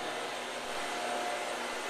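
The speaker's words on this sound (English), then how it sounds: "You can see in real time virtually how the machine is cutting." A Hansvedt DS-22 wire EDM machine cutting, heard as a steady, loud broadband hiss with a faint thin whine, unchanging and close.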